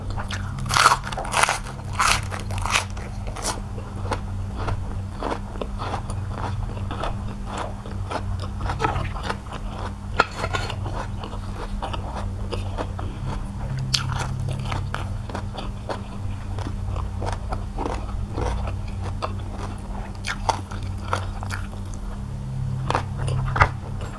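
Crispy pork belly is bitten and chewed alongside a Thai papaya salad with khanom jeen rice noodles, giving loud, close crunches that come in bursts early and then continue as steady chewing with occasional crackles.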